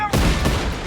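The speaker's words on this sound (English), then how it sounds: "all fired cannonballs into the hull of one of the warships" Warship cannons firing cannonballs as a sound effect in a pirate story, a loud, sharp burst of overlapping blasts in quick succession, close and alone.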